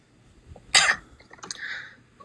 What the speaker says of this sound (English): he ends up coughing.